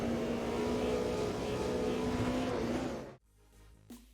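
BMW E30 M3 engine in Automobilista 2, a loud steady engine drone with a sustained tone that cuts off abruptly, then quiet with a faint short blip near the end.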